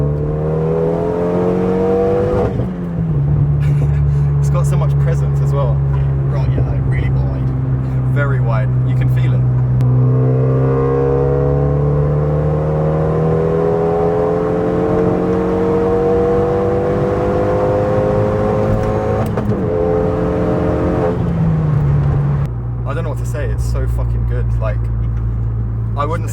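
A Renault Megane 275 RS engine pulls hard on the road, its note rising steadily through the revs from inside the cabin, loud and continuous beneath ongoing conversation.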